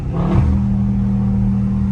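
Loud Dodge Scat Pack engine revving at full throttle from inside the car, a deep steady roar that swells briefly then holds.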